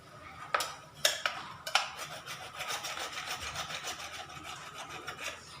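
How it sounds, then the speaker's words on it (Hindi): A key scrapes carbon buildup off an inverter battery terminal, making close, gritty rasping strokes in a steady back-and-forth rhythm, with a few sharper scratches near the start. "इसे आप इस प्रकार से किसी भी नुकीली चीज़ से आर चाबी से आप इसे अच्छे से घस देंगे"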